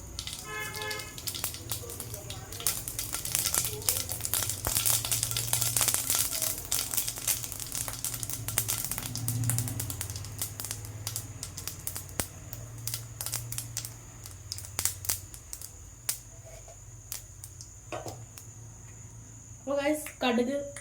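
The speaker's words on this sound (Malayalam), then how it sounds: "കടുകൊന്ന് പൊട്ടി വരട്ടെ കേട്ടോ." Mustard seeds splutter in heated oil in a home kitchen, giving rapid dense crackling pops that thin out and become sparse toward the end, with a low hum underneath.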